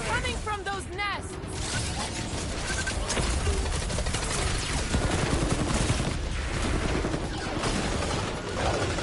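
Dense, loud gunfire and crashing impacts from a Guardians of the Galaxy action game fight against spawning creatures, continuous bursts layered with mechanical clatter and game effects, voices heard briefly near the start.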